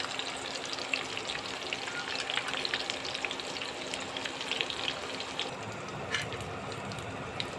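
Hilsa fish paturi frying in a pan after being flipped, giving a steady, fairly quiet crackling sizzle with fine popping spatters across the whole stretch, no one speaking.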